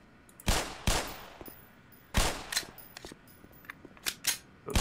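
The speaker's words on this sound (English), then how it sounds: "Pistol, shoot him right through the trash can." Pistol shots ring out in the video game Black Mesa, fired at a headcrab through a trash can: several sharp, loud cracks in irregular bursts with short decaying tails, and no talking over them.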